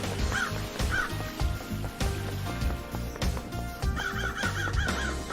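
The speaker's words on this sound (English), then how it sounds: "loud ass birds." Loud crows caw repeatedly in a video game, harsh calls coming in short runs over busy game background sound, with no voice speaking.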